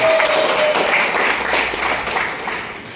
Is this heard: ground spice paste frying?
no